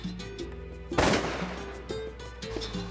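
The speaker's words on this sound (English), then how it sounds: "Shoot him, Joe." A shotgun blast rings out during a duck hunt from a blind, one loud sharp report with a brief decay over a quiet outdoor background hum.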